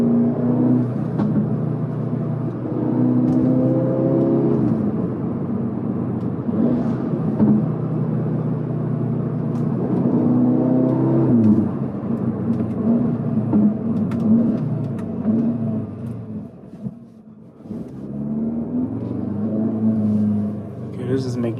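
An 8Y Audi S3 with 213 kW is driven along, its engine droning and swelling through gear changes from inside the car. Someone speaks intermittently over the steady rumble, which dips briefly near the end.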